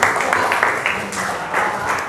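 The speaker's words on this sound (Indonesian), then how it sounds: "Tepuk tangan untuk tim kelompok 6." A classroom group claps for group 6 during a teacher coaching session, a steady patter of hands lasting about two seconds with voices mixed in.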